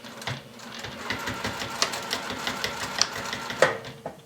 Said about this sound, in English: when I get to the end, I'm going to stitch forward and then back stitch